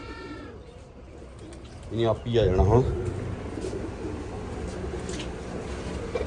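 Soft pigeon cooing in a coop under a voice, with a brief burst of wing flaps or fluttering and steady low noise from a running fan throughout.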